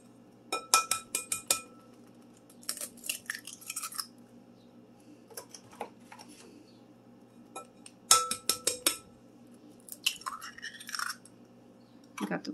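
Four eggs cracked against a glass bowl for cake batter, a series of sharp clinks and taps in small clusters with quiet pauses between, close and clear.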